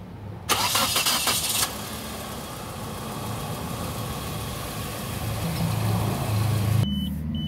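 A 1998 Nissan Sentra's starter cranks in a loud, brief burst, then the engine catches and settles into a steady idle, with a clunk near the end as the idle roughens.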